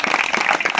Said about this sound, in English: Hands of applause to